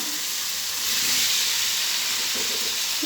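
Potatoes frying in spice masala in a pan, a loud continuous sizzling hiss close by with faint stirring underneath.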